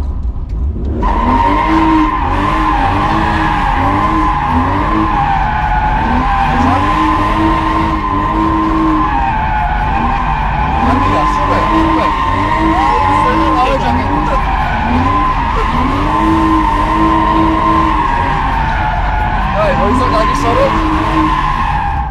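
A car drifting around cones screeches with continuous, loud tire squeal and a revving engine that rises and falls in waves, while people talk over the noise.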